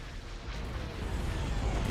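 Cannon fire in the space battle of Empire at War: Thrawn's Revenge rumbles as a dense, continuous low barrage of booms, heavy and muffled, building slightly louder toward the end.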